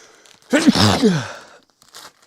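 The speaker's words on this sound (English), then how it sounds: "I have to sneeze." A single sharp sneeze bursts out close by, with a voiced exhale trailing after it, then quiet.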